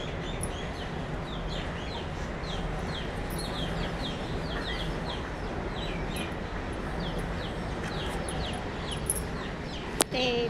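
Village chickens cluck and call over and over, a busy flock close by, with short bird chirps scattered through a steady outdoor background.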